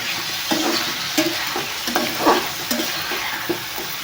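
Paneer curry is stirred in a pan with a spoon, giving repeated scraping strokes every second or so over a steady close sizzle of frying.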